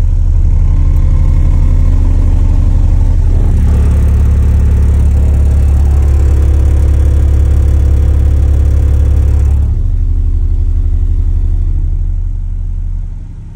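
A deep 35 Hz bass tone from car subwoofers on a Big Jeff Audio setup, a loud, heavy and constant drone that swells in the middle and then fades, with no one talking.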